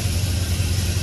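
A 1955 Chevy Bel Air restomod engine turning over and rumbling, a steady loud low-pitched drone with no pause across the short stretch.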